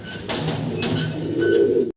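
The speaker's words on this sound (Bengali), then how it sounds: "চমৎকার একটা কবুতর" A soft, low pigeon coo rolls along in short throaty pulses, close by, with a faint background hum and occasional brief noises.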